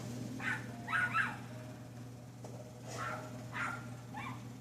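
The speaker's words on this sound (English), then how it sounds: "Leave that little dog alone." A small dog barks a few times in short yipping bursts at moderate distance over a steady low hum, with quiet gaps between the barks.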